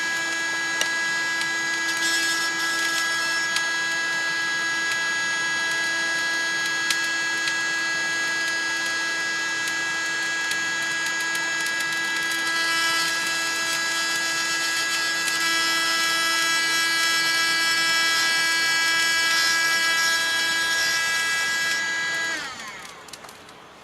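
An Eggniter loaf lighter runs in fan mode over lit charcoal, giving a steady, loud electric motor whine with a constant tonal hum. It holds evenly for about 22 seconds, then cuts off abruptly as the fan winds down.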